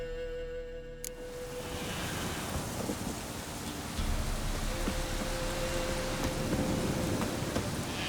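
Heavy rain and rolling thunder as an audio drama sound effect in a swamp setting, dense steady downpour with a deep rumble swelling partway through, no voices.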